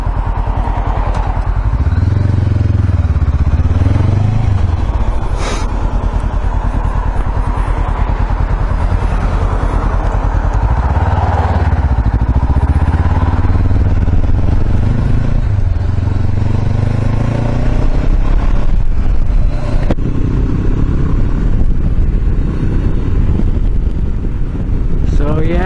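Honda CB500X motorcycle ridden with a sticking transmission, its engine note rising and falling through gear changes under steady wind buffeting and a rider talking.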